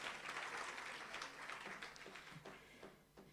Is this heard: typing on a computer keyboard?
no